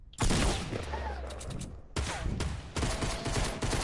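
Fortnite gunfire crackles in loud, dense bursts of rapid shots that keep restarting, up close and nearly continuous, with a voice faintly mixed in.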